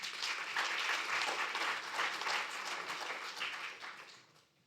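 Audience applause at a Franco-Indian law and business forum hosted with the Indo-French Chamber of Commerce, a dense, steady ovation that holds for several seconds before thinning and fading out at the end.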